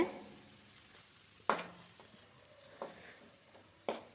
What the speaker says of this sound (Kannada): ನೋಡಿ, ಫ್ರೈ ಆಗ್ತಾ ಉಂಟೀಗ.